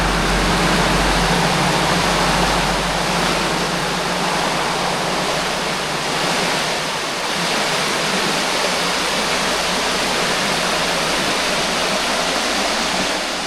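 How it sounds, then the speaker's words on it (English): A creek in the Black Hills of South Dakota rushes steadily, a dense unbroken wash of flowing water that stays loud and even throughout with no voices. "Such a nice creek."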